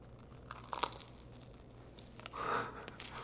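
Someone bites into a crunchy yet fluffy baked treat, giving a few crisp crunches and then a longer crackling chew, fairly close and with no talking over it.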